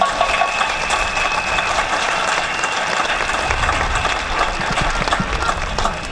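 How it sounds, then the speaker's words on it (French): Audience applause at a Catholic youth gathering (JMJ Saint Louis 2024), a dense, steady wash of many hands clapping continuously at moderate loudness with a crowd murmur underneath, no clear speech. "Je voudrais que l'Assemblée de tous les jeunes vous applaudisse"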